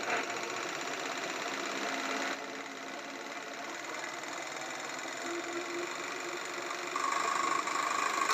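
A Mitsubishi DU-105 sewing machine motor runs steadily while winding a bobbin, a continuous even whir with a slight drop in level partway through and a brief rise near the end, heard alone at moderate distance.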